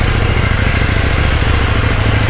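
A KTM 790 Duke motorcycle engine idles loudly and steadily throughout, with a low rumbling throb close by and no talking.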